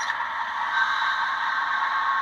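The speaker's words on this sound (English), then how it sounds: "you're going to hear the independent bail off" Air release of an independent brake bailing off on a model locomotive fitted with a Tsunami2 sound decoder, a steady hissing blow of air, moderately loud and continuous, with no talk.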